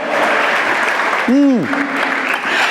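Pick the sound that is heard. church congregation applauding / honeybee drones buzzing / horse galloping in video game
church congregation applauding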